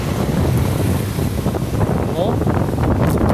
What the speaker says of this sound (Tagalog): Lakas ng hangin na tropa.